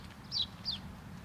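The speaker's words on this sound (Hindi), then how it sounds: "यहाँ पर चिड़ियों की आवाज़ आ रही है" Two brief high chirps from small birds outdoors, spaced a short way apart, faint over a low hum of distant road traffic.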